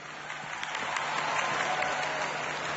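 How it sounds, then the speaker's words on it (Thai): Audience applause at a televised singing-competition show, a fairly faint but continuous crowd clapping that swells slightly and holds steady. "ขอเสียงปรบมือให้กับ acting trainer ครับ"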